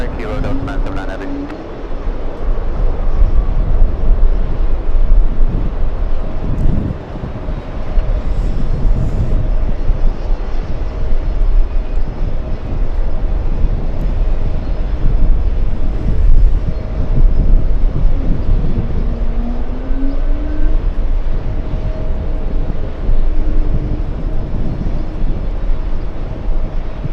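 An Emirates Airbus A380 jet rumbles steadily at an airport for nearly half a minute. The broad engine roar stays constant, with tower radio chatter heard faintly alongside.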